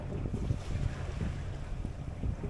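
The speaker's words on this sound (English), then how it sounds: "My current view, just sailing along nicely." Sailboat on its maiden voyage from Ipswich to Plymouth, moving steadily under wind: a continuous rushing blend of wind buffeting the microphone and water washing along the hull, close and fairly loud, with no talk.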